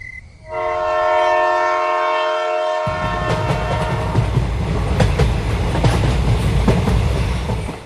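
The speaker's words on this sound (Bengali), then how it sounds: "ট্রেন আবারও চলতে শুরু করলো" A loud horn sounds for a couple of seconds, then a train rumbles and clacks as it begins rolling out of an empty Shaktigarh station.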